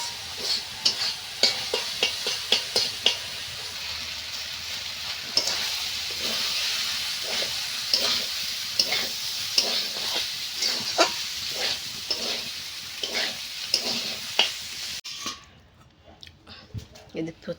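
Cold rice with cabbage and peas is stir-fried in a pan for a long stretch, with a steady sizzle and repeated rhythmic spatula scrapes close by, ending in a quieter tail.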